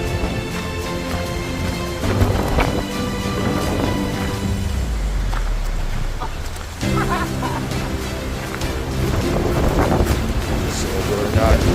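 Wind buffets the microphone on the rocky shore of the Sea of Galilee at Capernaum, with water lapping beneath and people talking and music-like tones faintly in the background.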